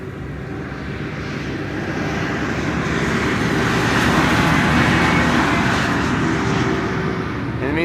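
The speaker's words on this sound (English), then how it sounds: "SAS A320neo is coming in." SAS Airbus A320neo landing on runway 18R Polderbaan at Amsterdam Schiphol in breezy conditions, a loud sustained jet roar that swells in the middle and eases slightly toward the end, heard alone without talk.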